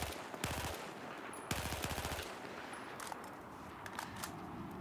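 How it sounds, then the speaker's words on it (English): Short bursts of automatic gunfire from a weapon in Battlefield 4, two clusters of rapid shots separated by pauses, then scattered single shots and distant firing, loud and up close. "you might need to start firing in smaller bursts or microbursts"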